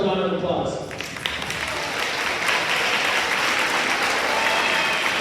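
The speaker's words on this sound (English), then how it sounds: "give yourself a round of applause" A school audience at a high school MLK keynote breaks into applause as a speaker's voice trails off, the clapping swelling into a loud, sustained crowd ovation.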